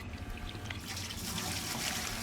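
Liquid poured in The Outlast Trials: a steady trickling stream of fluid runs continuously and grows slightly fuller over a low, murky game background.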